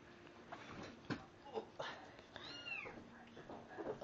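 Abandoned kittens meow softly several times, with thin rising cries standing out over a faint background of room noise and light murmuring voices.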